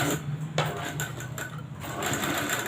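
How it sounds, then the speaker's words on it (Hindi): Sewing machine running double stitching on a garment shoulder seam, a close, loud, steady mechanical whirr with a few brief stops and restarts. "ऐसा डबल सिलाई लगा लेते हैं हम"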